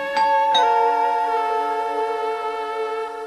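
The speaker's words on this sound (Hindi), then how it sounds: "डोरबेल की आवाज" An indoor doorbell rings with two struck chime notes followed by a long, clear ringing tone that slowly decays, close and alone without voices.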